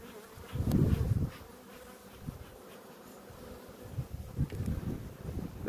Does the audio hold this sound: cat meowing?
no